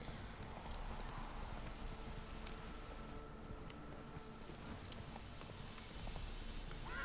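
A horse gallops in the video game The Witcher 3: Wild Hunt, a steady stream of quick hoofbeats under faint ambient game sound.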